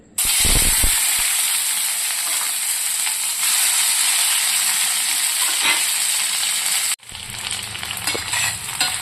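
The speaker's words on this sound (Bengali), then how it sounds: "তেলটা গরম হয়ে গেছে, এবার আমি দিয়ে দেব এই রসুন ছাড়ানো রসুনগুলো" Peeled garlic cloves hit about two tablespoons of hot mustard oil for a garlic pickle, setting off a loud, steady, close sizzle and fry that runs nearly unbroken, cutting out sharply near the end before resuming.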